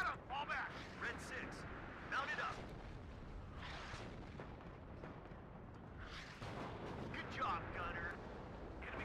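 Distant gunfire and artillery booms from a WARNO real-time battle rumble in bursts, partly masked under someone talking over the game.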